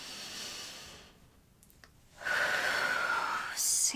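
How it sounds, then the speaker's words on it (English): A slow, deep inhale during a relaxing yoga stretch, soft and close, rising into an airy, slightly whistling draw that lasts about a second before a faint breathy rustle. "So again, breathe in."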